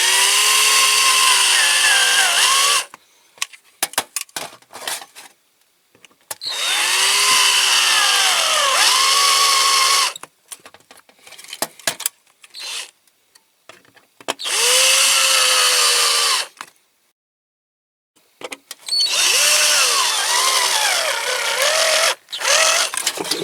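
A power drill with a flat battery whirs in four separate bursts of a few seconds each while drilling out rivets on a Dinky Toys caravan, its pitch sagging and wavering under load, with clicks and handling noise in the pauses.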